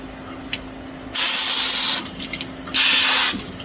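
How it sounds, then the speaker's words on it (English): Water gushes out in two loud, steady hissing bursts from a bilge pump on a sailboat, each lasting under a second with a brief quieter pause between, close and alone. "Gonna make a ton of water to pump out there."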